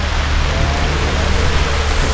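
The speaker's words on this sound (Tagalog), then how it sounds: "Grabe yung ulan mga boss yun." Heavy rain pours down in a steady, loud, dense hiss, close and continuous with no pauses or voices over it.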